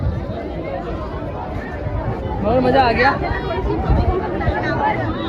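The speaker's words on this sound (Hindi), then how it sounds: "बहुत भीड़ है भाई, देखो क्या क्राउड हुआ पड़ा" A large crowd of pilgrims at the Bet Dwarka temple, a steady hubbub of many overlapping voices all around, with nearby talk rising over the babble.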